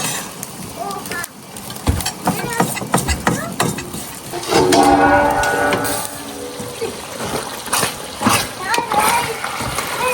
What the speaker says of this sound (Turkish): Abi gel önümüzü yüzümüzü yıkayalım.